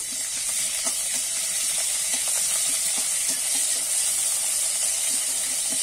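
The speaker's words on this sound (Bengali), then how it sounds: "সামান্য দেখো একটু আদা কাঁচা লঙ্কা বাটাটা একটুখানি আমি দিয়ে নেড়ে চেড়ে নেব।" Ginger and green chili paste fries in hot oil in a kadai with a loud, constant sizzling hiss, while a spoon stirs it in a steady rhythm of soft scraping strokes, close by.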